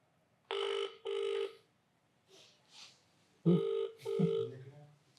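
A telephone rings in an office, two short trilling bursts, a pause with faint murmuring, then two more rings with a thud, fairly close and clear.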